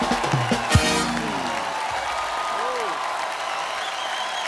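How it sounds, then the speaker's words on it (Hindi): A studio audience on a Hindi comedy talk show breaks into applause and cheering for a singer, a broad, even wash of crowd noise after a brief tonal burst at the start. "फिर एक बार जोरदार तालियां हो जाए"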